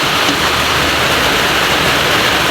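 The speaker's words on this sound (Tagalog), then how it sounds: "Dito po grabe ang ulan." Heavy rain pours steadily during an all-day downpour at a house with new corrugated metal roofing and sliding windows, a dense, loud, continuous hiss with no pauses and no voices.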